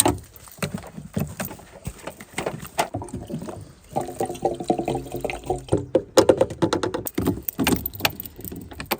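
DPF and catalytic converter cleaner is poured straight into the fuel of a Peugeot 207, giving an uneven gurgling and glugging with small knocks and handling clatter, close and fairly loud, with no talking.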